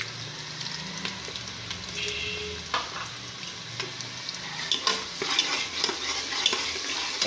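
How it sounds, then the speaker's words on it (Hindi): Ginger garlic paste frying with softened onions in a pan for a cabbage and meat curry, a steady close sizzle broken by scraping stirs that grow busier toward the end, with no talk. "अच्छी तरह भूनेंगे, 2-3 मिनट इसको भूनेंगे।"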